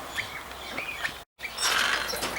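Harsh, shrill monk parakeet screeches come in bursts over a noisy background, with a brief gap of silence midway.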